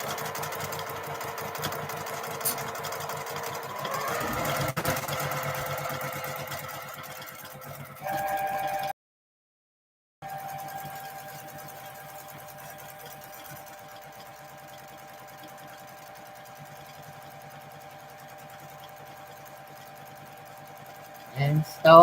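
A home sewing machine stitching in place to lock the thread before quilting feathers, a steady mechanical hum that cuts out briefly near the middle and then resumes, with a person speaking over it.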